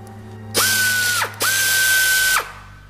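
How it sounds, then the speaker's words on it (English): Two locking cylinders turn counterclockwise in a Terminator 2 game, giving two loud mechanical whirring sweeps, each rising to a steady whine and then cutting off, with a short gap between them and no talk. "Rotate the two locking cylinders counterclockwise."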